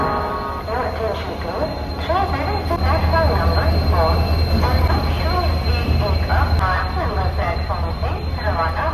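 A sleeper coach train runs, heard from inside the carriage: a loud continuous rumble and rattle of wheels on track with squealing tones, while people talk nearby over the noise.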